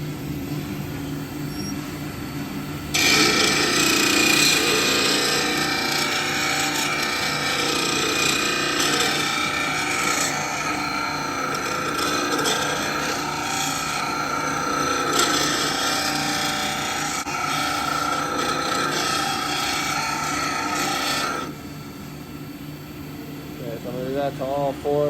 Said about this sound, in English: I'm just rounding off all these edges here